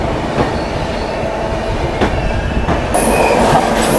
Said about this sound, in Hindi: पीछे कोई ट्रेन निकलती हुई भाई